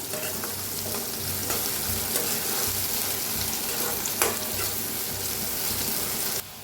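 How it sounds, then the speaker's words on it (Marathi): Onion frying in a pan for a Maharashtrian amti, a loud continuous crackling sizzle that stays even throughout, with a few faint stirring knocks and no talk. "भाजून घेऊया कांद्याला चांगला असा"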